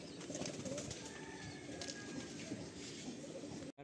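Pigeons in a pigeon loft coo faintly and steadily beneath a soft, even background hum, with no voices present.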